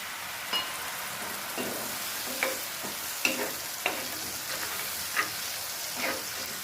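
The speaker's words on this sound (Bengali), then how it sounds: "মশলাটা তেল ছেড়ে কষানো হয়ে যাচ্ছে" Spice masala for a yogurt chicken curry fries in oil with a steady broadband sizzle, broken by about eight sharp scrapes and clinks of a spoon stirring against the pan, close and fairly quiet.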